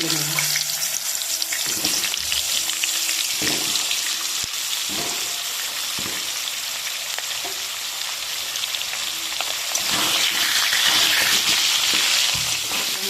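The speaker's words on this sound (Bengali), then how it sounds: "মাছগুলো লাল লাল হয়ে গেলে আমি এবার তুলে নেব তেলে এবার আলুগুলো আমি ভেজে তুলে নেব" Potatoes frying in oil in a Bengali kitchen, a constant loud sizzle with periodic stirring knocks and clatters of a utensil against the pan, no talk.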